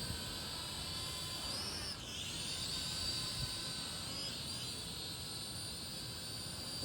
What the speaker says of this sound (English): It's a nice looking little drone.